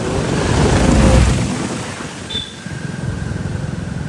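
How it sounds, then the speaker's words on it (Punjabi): A steady, broad rush of fast-moving floodwater roars close by in Ajnala, Punjab, with wind buffeting the microphone throughout. "ਪਾਣੀ ਬਹੁਤ ਤੇਜ਼ ਹੋ ਰਿਹਾ ਹੈ"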